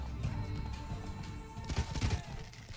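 Horse hooves clip-clopping during riding in The Witcher 3: Wild Hunt, Blood and Wine DLC, a steady galloping patter of thuds with a few heavier impacts near the end, fairly close and continuous.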